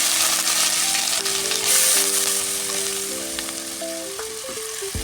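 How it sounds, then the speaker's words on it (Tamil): Grated ginger frying in generous hot coconut oil for Kerala-style inji puli, a loud, steady crackling sizzle close up, with faint sustained tones running underneath. "எண்ணெய் காஞ்சதும் இஞ்சி துருவி வச்சுருக்கிற இஞ்சி போட்டுக்கணும்"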